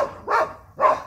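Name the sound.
dog barking on alert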